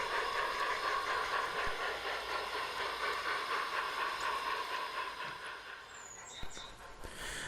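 A model railway train rumbles steadily along with a continuous metallic running noise, joined near the end by brief high squeals.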